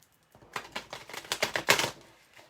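A deck of playing cards is shuffled in a quick riffle: a rapid burst of crisp, papery flutters that builds, peaks and stops within about two seconds. It sounds close, and no one speaks over it.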